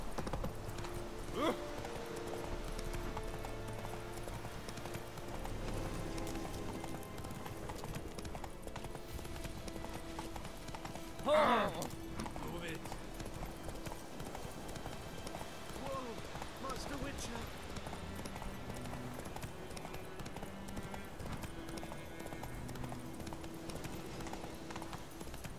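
Horse hooves clip-clop steadily through a gallop in The Witcher 3: Wild Hunt, a continuous rhythmic beat running beneath game ambience and occasional spoken commentary, with one brief louder thump partway through.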